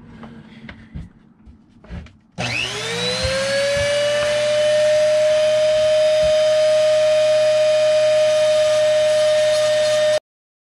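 Dremel rotary tool grinding chrome door handles on a Ford F150, preceded by a few faint knocks, then spinning up into a loud, steady high whine that holds continuously before cutting off abruptly.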